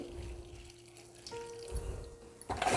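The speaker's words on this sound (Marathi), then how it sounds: "चाळणीवर ठेवून असं पाणी टाकून धुवून घ्यायचं 2-3 पाण्याने असे" Water poured over flattened rice (poha) held in a sieve, rinsed for kanda poha, giving a soft close trickle and splash that ends in a brighter, louder gush.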